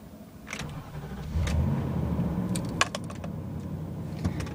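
A Nissan Titan pickup truck engine cranks and starts, settling into a low, steady rumble, with a few light clicks and taps on top.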